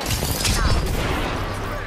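Gunfire in Apex Legends during a battle pass match, a dense, continuous barrage of shots and impacts for two seconds, loud and unbroken, with faint voices mixed in.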